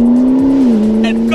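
McLaren MP4-12C Spider with a 3.8-litre twin-turbo V8 holds a loud, steady drone close by, its pitch dipping slightly partway through, with short bright bursts near the end.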